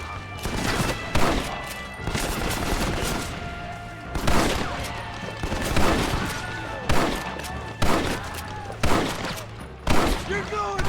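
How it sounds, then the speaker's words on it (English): Bursts of machine gun fire in Red Dead Redemption come in repeated volleys roughly every second or two, loud and close, with game music and shouted voices running underneath. "Machine gun, John!"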